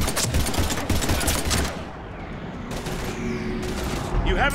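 Gunfire in the video game Mass Effect 3, rapid bursts of shots loud at the start and again near the end, mixed with voices speaking.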